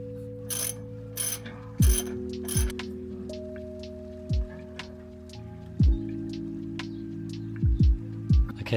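Ball joint spacer bolts go back into a 1996 Toyota Hilux pickup, heard as short bursts of ratchet clicking at close range, several spaced runs over a steady background hum.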